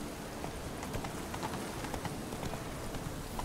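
Roach the horse galloping in The Witcher 3, a quick, rapid clip-clop of hooves drumming continuously over a short stretch, moderately quiet and unbroken by speech.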